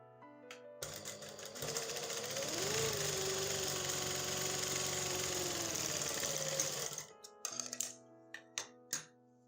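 A sewing machine runs a continuous stitching burst across fabric at one-inch spacing, loud and close for several seconds, then stops, followed by a few sharp clicks and taps of handling.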